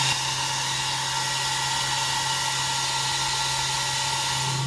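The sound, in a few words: hair dryer blowing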